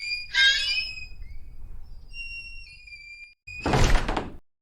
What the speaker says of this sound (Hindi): ताला खुल गया और जंजीरें नीचे गिर के दरवाजा खुल गया।